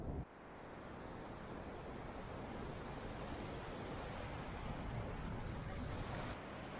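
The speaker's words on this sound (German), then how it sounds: "Es ist ziemlich spektakulär da mit den Wellen, muss ich sagen" Ocean surf breaks below a coastal cliff, heard as a steady, even roar of washing water with a wind-like hiss. It stays constant from start to finish, with no voices.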